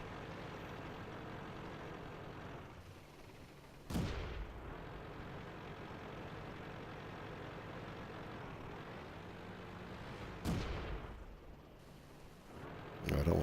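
Tank cannon fire in the video game World of Tanks: two heavy booming shots several seconds apart ring out over a constant engine rumble, with a third blast starting at the very end.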